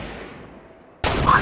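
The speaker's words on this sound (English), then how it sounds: "Who's shooting?" A sudden loud burst of gunfire in Fortnite cuts in after a quieter stretch, close and sharp.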